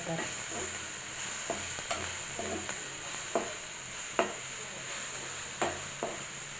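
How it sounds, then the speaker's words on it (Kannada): Salted food being mixed in a hot pan, with a soft sizzle under scattered scraping strokes of the spoon and occasional sharper knocks against the pan. "ಇದನ್ನು ಚೆನ್ನಾಗಿ ಮಿಕ್ಸ್ ಮಾಡ್ಕೊಳ್ಳೋಣ ಉಪ್ಪು ಎಲ್ಲದಕ್ಕೂ ಅಂತ"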